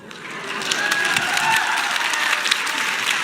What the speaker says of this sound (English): the crowd applauds for absolute fantasy